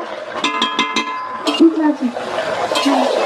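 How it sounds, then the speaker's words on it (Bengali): Desi chicken with spices is stirred in a pot, a spoon scraping and clinking against the metal in a quick series of knocks, then slower scrapes, with a voice talking over it. "তো এইভাবে নাড়তে থাকবো যতক্ষণ পর্যন্ত না কষা।"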